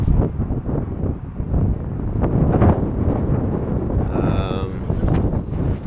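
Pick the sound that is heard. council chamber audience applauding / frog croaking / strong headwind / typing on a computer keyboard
strong headwind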